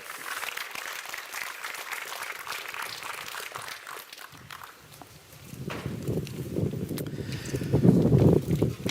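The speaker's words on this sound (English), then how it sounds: "let's give them another round of applause" Applause from the audience at a university graduation ceremony for departing musicians, a steady patter of clapping at moderate distance that swells louder toward the end.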